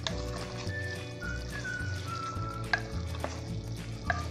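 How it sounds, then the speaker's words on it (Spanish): Olluquito con carne, Peruvian olluco and meat, being stirred in a pot, giving a low steady simmering sizzle with occasional scraping clicks of the spoon against the pot. "Vamos a mover nuestro yuquito. Miren ustedes cómo va soltando el jugo."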